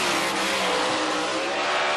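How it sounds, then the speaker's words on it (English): Two race cars rumble together on a warm-up lap before taking the green flag, a steady broadband roar of engines and tires sounding close and loud without pause. "So these two cars will take the green flag here on the warm-up lap."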